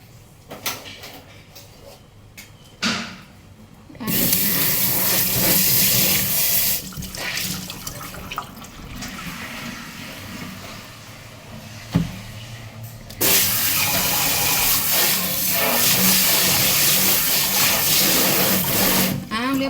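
Water from a tap splashes and runs during washing, starting quiet with a few knocks, then turning into long loud rushing stretches broken by a short pause.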